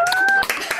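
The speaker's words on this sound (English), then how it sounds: "everybody unmute and clap" An online talk-show audience unmutes and claps over a video call: a brief, scattered patter of claps heard through call audio, with a thin steady tone running beneath the first half.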